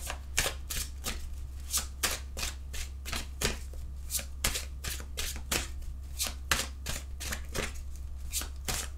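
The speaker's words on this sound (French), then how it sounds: "Alors, je mélange." Tarot cards shuffled by hand in a steady, fast rhythm of crisp overlapping flicks, close up over a low constant hum, with no voices.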